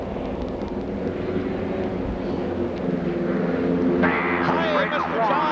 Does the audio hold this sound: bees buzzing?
no